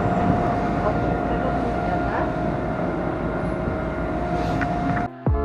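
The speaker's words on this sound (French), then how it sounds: "je te montre l'intérieur du métro." Steady rumble of a Chicago metro train heard from inside the car, a continuous loud drone with a faint steady whine, running alone without talk until it cuts off abruptly near the end.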